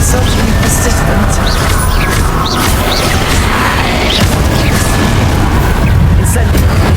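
Incendio fire spells go off repeatedly in Hogwarts Legacy, heavy booming bursts of flame amid ongoing combat noise, loud and close, with small whooshing sparks and a voice speaking in the mix.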